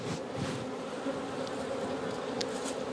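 Honey bees swarm around frames of wax comb at a hive, a dense continuous buzzing hum up close with no pauses or voices.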